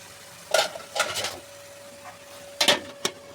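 A pot of egg curry on the stove gets covered, with a few sharp clinks of a metal lid and utensil against cookware and a faint steady hum underneath.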